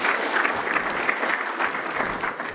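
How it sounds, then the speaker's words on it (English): Conference audience clapping for a presenter after a cybersecurity talk, an even, continuous patter of many hands at moderate level, heard alone without voices. "Now, for a round of applause to Beatrice"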